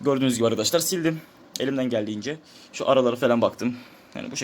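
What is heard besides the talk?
No everyday noise stands out behind the speech.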